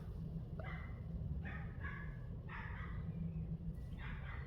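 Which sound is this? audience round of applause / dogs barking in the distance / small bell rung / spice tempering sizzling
dogs barking in the distance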